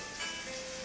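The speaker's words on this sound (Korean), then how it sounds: "마늘을 볶아. 버터에." Garlic frying in butter in a pan, a steady close hiss of sizzling with bright crackle, brief and alone without talk.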